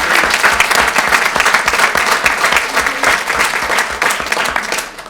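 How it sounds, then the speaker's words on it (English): A big round of applause from a school gathering's audience, dense and loud clapping from many hands that holds steady and then tapers slightly at the end. "This is a big round of applause."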